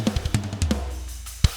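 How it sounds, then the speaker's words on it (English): Dry drum kit with a fat, low kick and a slappy snare, played as a short groove of punchy hits with a final heavy kick accent, alone without talk. "So really trying to get that fatty snare, fat kick sound, that really slappy characteristic to sit underneath the dry drums,"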